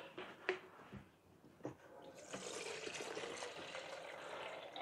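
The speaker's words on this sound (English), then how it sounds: "I'm filling it from my hot tap" Hot water runs from a household tap into a watering can, a steady broadband rush of filling water that starts after a couple of seconds of faint knocks and clunks and then continues evenly to the end.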